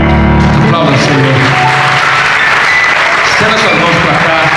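Congregation clapping in a church service, loud and continuous throughout, mixed with music and voices underneath the dense, steady clatter of hands.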